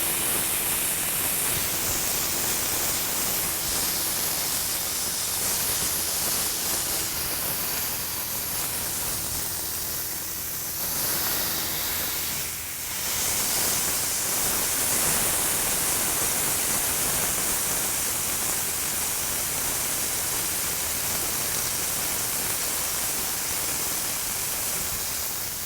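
Burger patty sizzling loudly on an SnS Grills plancha griddle while pressed flat with a smasher, a steady dense hiss that continues for the whole stretch with only a momentary dip, close and without talk.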